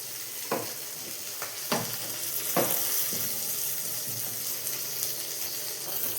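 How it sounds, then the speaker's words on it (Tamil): Onion, garlic and green chili frying in a pan for a tamarind curry give a steady, close hiss of sizzling, broken by a few sharp scrapes and clinks of stirring. "வெங்காயம் வந்து கொஞ்சம் நல்லா பொன்னிறமாக வரணும், அந்த அளவுக்கு நல்லா வறுத்துக்கலாம்."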